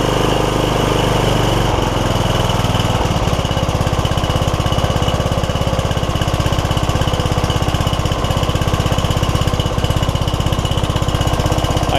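A small engine runs steadily at a rough, even idle after a shift in tone near the start, burning built-up junk out through its exhaust; loud and close with a constant chugging pulse and no talking.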